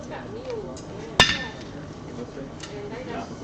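One sharp, ringing hammer blow on metal at a farrier forge during a horseshoeing competition, heard once over a bed of background voices.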